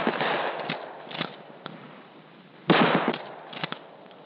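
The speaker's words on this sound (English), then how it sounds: "Hip firing is used at close range, where most confrontations do occur." Shotgun fired from the hip at close range during firearms training, several sharp loud blasts in a broken sequence, a cluster early, then a strong report near the end followed by a few quicker pops.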